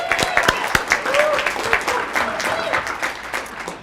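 An audience at a St. Paul neighborhood honor roll award ceremony breaks into sustained applause with scattered cheers and whistles, dense clapping holding steady for about four seconds.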